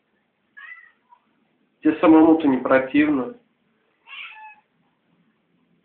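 A cat gives a short meow, then a longer drawn-out wailing meow, and a final brief meow, close and clear; a person speaks briefly in between.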